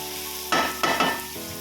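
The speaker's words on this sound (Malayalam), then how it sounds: "അതിന് ശേഷം നമ്മൾ ഇളക്കി കുറേ ഇളക്കിയ ശേഷം നന്നായിട്ട് തന്നെ ഇളക്കുക." Green chili, onion and garlic frying in a pan and being stirred, with a steady sizzle broken by a few louder scraping stir strokes, close and alone without any talk.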